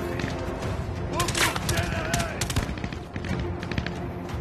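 Dense, continuous gunfire with bursts of automatic shots and heavy booms from turrets being blown up in Zero Caliber 2 VR on the Kaliningrad level. Loud and close throughout, with a voice talking over parts of it.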